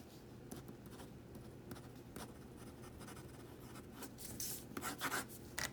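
A Pilot Hi-Tecpoint 1.0mm pen glides over paper with soft, muted strokes. A faint, steady rubbing is heard close by, with a few slightly louder scratches toward the end and no speech.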